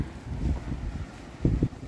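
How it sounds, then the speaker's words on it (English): Strong gusty wind buffets the microphone outdoors in low rumbling bursts, loudest in short surges, with no speech heard. "it's very windy at the moment."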